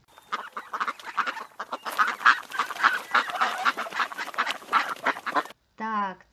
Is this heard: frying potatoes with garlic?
no